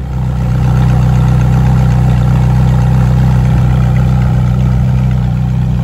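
A car with a sport exhaust, loud and close, rumbles at a heavy steady idle after starting, a deep continuous drone without pause.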